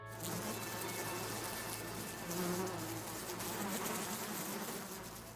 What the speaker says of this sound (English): The bee buzzes only briefly in protest before seeming to settle down.